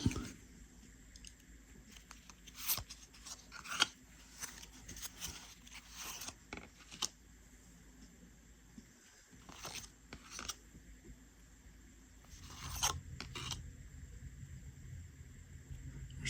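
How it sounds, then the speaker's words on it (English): Foil wrapper of a 2022 Absolute football trading card pack torn open, then 20 cards shuffled and slid against each other in a series of close crinkles, snaps and rustles, with a few louder bursts near the end. "next we're going to open this Absolute 2022 football. 20 cards here."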